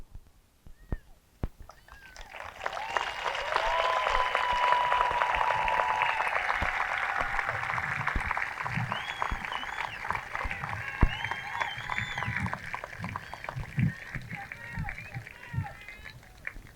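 Audience applause at a Bellefontaine High School Class of 2021 graduation, honoring local scholarship recipients as they stand; sustained clapping from a large crowd swells in after a couple of seconds and continues steadily, with some scattered voices.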